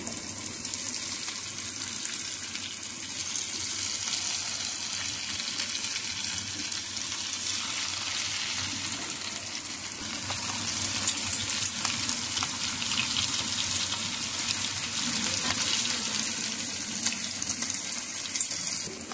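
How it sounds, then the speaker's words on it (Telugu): Potato popsicles fry in a pan of hot oil, giving a steady, dense sizzle and bubbling hiss that holds close and even throughout, swelling slightly in the middle, with no voices. "ఈ విధంగా మనం ఫ్రై చేసుకోవాలండి."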